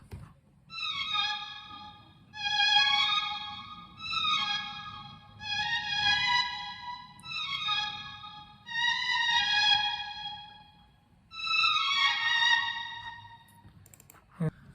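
Layered sustained string tones swell in repeated phrases, each lasting about a second, with short pauses between them over a low steady hum.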